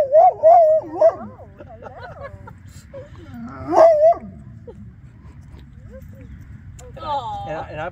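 A dog whines and yips in high, wavering cries, with soft talking in the background.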